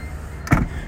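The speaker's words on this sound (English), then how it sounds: "To close the boot there is just a button here that you press" A Citroen C4 Picasso 1.6 BlueHDi boot closing under power after a button press, a brief motor whir ending in a single dull thump, close and alone.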